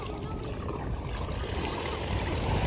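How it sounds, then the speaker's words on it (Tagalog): Strong ocean waves churn and rush continuously at the Parola Island beach, a loud, dense roar with steady surf noise and no clear talk. "lakas din ng alon, grabe"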